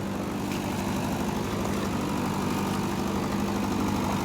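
A tractor engine runs steadily nearby, a constant droning hum with a low throbbing pulse and no change in pace or loudness throughout.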